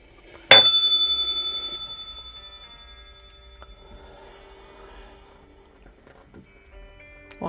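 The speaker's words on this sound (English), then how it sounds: "Let's ring a ding ding. The bell." A single bell is struck once, loud and bright, its ringing tone hanging and slowly fading over several seconds, followed by faint room noise and a soft tap near the end.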